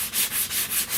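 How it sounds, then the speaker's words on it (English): A car body coated in high build primer is sanded with 150 grit paper, making rhythmic back-and-forth rasping strokes, about five passes in a second, close and steady. "sand this with 150"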